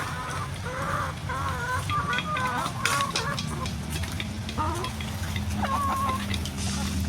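Laying hens cluck and squawk in repeated bursts close by, with a steady murmur of more birds behind them throughout.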